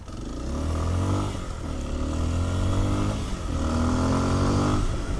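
A 2026 Kawasaki KLX230 Sherpa S dual-sport motorcycle rides on commuter roads, its small single-cylinder engine droning steadily close by as it rises in pitch through two gear pulls, with wind noise over the top and no speech.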